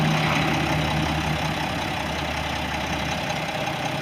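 The engine of a 2000 Mack RD688S truck idles close by, giving a loud, continuous low rumble that stays steady throughout.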